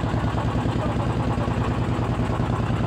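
A motorboat trawler engine chugs on the water in the Sundarbans, a loud, close, steady low throbbing pulse with no letup, and faint voices underneath.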